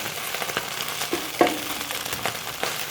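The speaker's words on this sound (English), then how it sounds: "when your omelette is almost crisping up ready, okay, it's getting crispy from here" An oyster omelette, Teochew style, fries and crisps in a hot pan with a continuous close sizzle and light stirring scrapes, and no voices.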